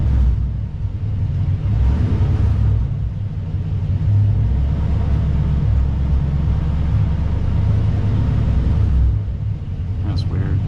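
A 1997 Pontiac Trans Am running hot with an oil-pressure fault gives a steady, loud low rumble as the throttle is pressed, holding near and constant for several seconds while someone talks over it.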